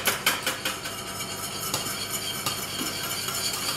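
A utensil stirs and scrapes through a creamy camembert sauce in a pan, giving steady close clinks and scraping strokes with a few sharper taps, with no talking.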